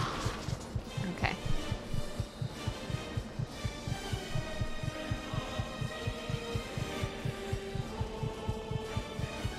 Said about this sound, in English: This is what my puppy's heartbeat sounds like